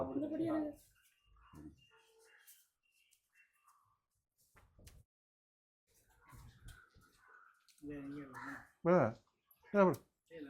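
A peacock gives two loud, wailing calls close together near the end. Before them, people talk and there are quiet pauses.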